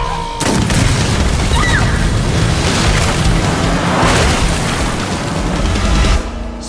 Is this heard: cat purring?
no